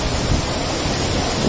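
Steady broadband rush of water pouring through a canal headworks, a continuous, even roar with no breaks, close and fairly loud.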